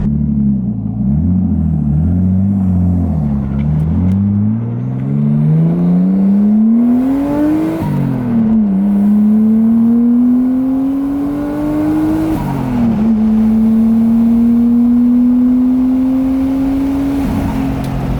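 A JDM car engine revs hard under acceleration, its loud rising drone climbing through the gears with brief drops at each shift, close and steady with no talk.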